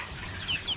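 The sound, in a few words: chickens clucking on a poultry farm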